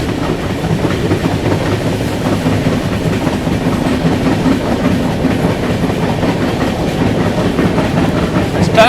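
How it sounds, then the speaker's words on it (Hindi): Mandovi Express train on the Mumbai to Goa route heading into Apta tunnel, a loud steady roar of wheels with rhythmic clickety-clack from inside a carriage. "अभी बस अपनी ट्रेन एंटर होने जा रही है अपने इस रूट की पहली टनल में"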